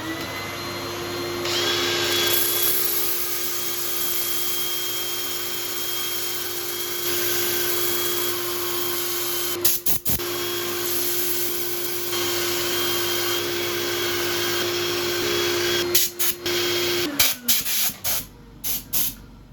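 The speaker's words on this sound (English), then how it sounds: "So I shall set up for sanding." An elm vase spins on a woodturning lathe while being sanded, a steady loud hiss and whine over a low motor hum, with brief interruptions near the end as the machine winds down and stops.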